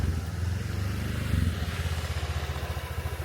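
A motorcycle engine idles and putters up close at a home gate, its low steady chugging turning into a rapid pulsing rhythm near the end, with no talking over it.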